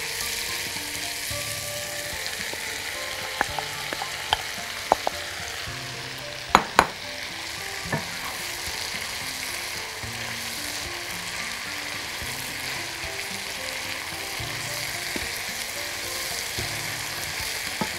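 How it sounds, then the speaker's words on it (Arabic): Fresh mushrooms fry in a pan with a steady, dense crackling sizzle, joined by a few sharp clicks and taps of a utensil early on, with no talking. "هنحط بقى دلوقتي المشروم اللي عندنا اهو، ويفضل طبعا المشروم يكون طازة."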